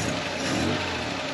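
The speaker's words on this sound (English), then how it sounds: "The car starts right up." A 1954 Chevy Bel Air with an upgraded 235 engine and dual carburetors running, a steady close-up engine drone with a smooth, even tone over a brief moment.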